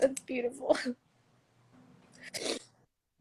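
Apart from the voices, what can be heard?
sneeze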